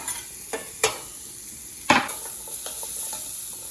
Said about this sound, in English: We need to fry the carrots.